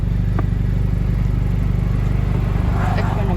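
A 2020 Honda Civic Si fitted with a MAPerformance street exhaust idles or cruises with a loud, steady, low-pitched exhaust drone and rhythmic pulsing throughout, close by and without talking.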